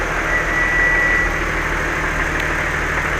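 An Audi A3 V6 idles steadily at its first start after being reassembled under the bonnet, a constant close engine drone with no revving and no voices.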